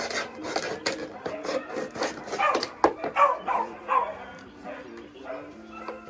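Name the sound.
dogs barking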